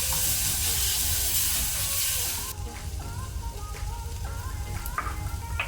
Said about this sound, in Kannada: ಸ್ವಲ್ಪ ಲೋ ಫ್ಲೇಮಲ್ಲಿ ಇದನ್ನು ಫ್ರೈ ಮಾಡ್ಕೊಳ್ಳುವ.